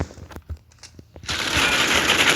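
Video game gunfire: a few scattered sharp shots, then a dense sustained burst of rapid automatic fire that fills the second half, loud and with no talking.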